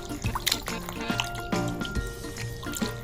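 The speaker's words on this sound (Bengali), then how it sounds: "ভালো করে চিকেনগুলো ধুয়ে নিতে হবে এরকম করে।" Raw chicken pieces are washed by hand in water in a village kitchen, giving splashing, dripping and trickling sounds with a few sharper sloshes, close and fairly clear, with no talk.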